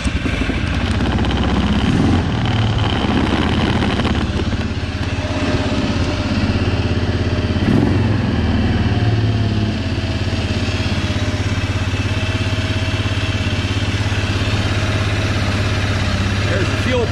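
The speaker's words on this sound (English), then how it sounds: "I'm gonna start her up. We'll see what it does now." An Arctic Cat ATV running on a replacement Chinese carburetor idles steadily and loudly, a continuous close engine drone with slight variations in pitch and no break throughout.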